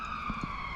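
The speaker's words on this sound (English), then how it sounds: "there's a police car going" A police car siren wails on a steady tone along a country road in a park, moderately near and continuous, with faint low rumbles underneath.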